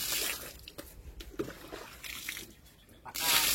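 Water poured repeatedly over a person's body and head during bathing, splashing and trickling in uneven bursts with a louder gush at the end, while people talk nearby.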